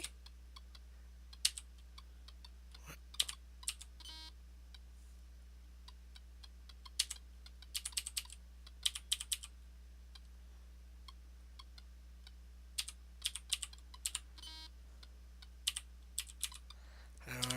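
Computer keyboard keys pressed while playing a video game, scattered bursts of quick clicky taps separated by pauses over a steady low hum, with brief speech now and then.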